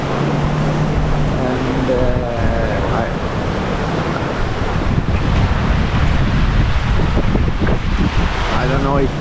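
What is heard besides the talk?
gale wind and waves on sailboat at sea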